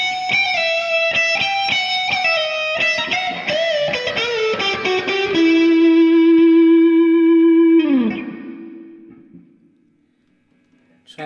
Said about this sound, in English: Let's see how it sounds with the rhythm pickup and a heavier tone.